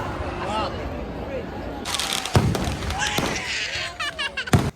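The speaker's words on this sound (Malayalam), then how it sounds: "അതേ അടിപൊളി വെടിക്കെട്ടാണ്" Fireworks at a church feast in Pallipuram, Munambam, Kerala: sharp booming bursts and crackling volleys arrive in quick clusters over crowd noise and nearby voices.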